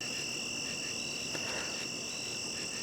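Crickets sing at night beside an evening primrose, a continuous high-pitched trill that stays steady and fairly loud throughout.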